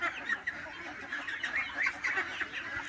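Ducks roam a home yard and courtyard, giving off a steady run of nasal quacks and honks at moderate distance, several birds calling over each other without pause.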